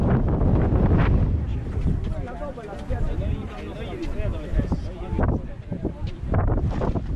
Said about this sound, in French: avec au taquet de vent, ça souffle.